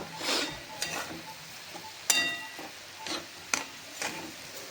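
A spoon stirring sugar into suji halwa in a pan, producing soft scraping strokes with a few sharper clinks against the metal, moderately close and fairly quiet, with no talk.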